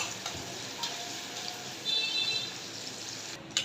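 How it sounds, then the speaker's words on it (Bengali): Chopped onions and dried chepa shutki fish frying in a wok, giving a steady, fairly faint sizzle that swells slightly partway through, with no talking. "পেঁয়াজ কুচির সাথে শুকনোগুলো দিয়ে দিব, দিয়ে পেঁয়াজ কুচির সাথে ভালো করে ভেজে নিব।"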